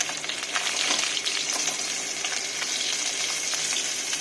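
Pieces of shol fish fry in hot oil in a pan with a loud, continuous crackling sizzle, dense with small pops and no talking.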